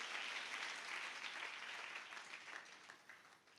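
Applause from a church congregation fills a short stretch, thick and steady at first, then thinning and fading toward the end.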